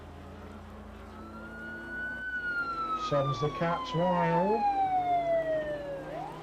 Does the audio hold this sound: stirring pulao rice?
no